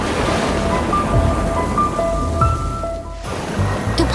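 Steady rain shower on a stormy night in a cartoon, a dense continuous hiss with a wash of surf-like noise running the whole time, loud and close, with faint tonal lines and no voices.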